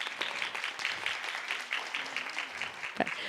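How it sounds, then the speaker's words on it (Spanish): Brief audience applause at an education forum on inclusion and innovation, a steady patter of many hands clapping in a hall, with a slightly sharper clap near the end. "Un gran aplauso."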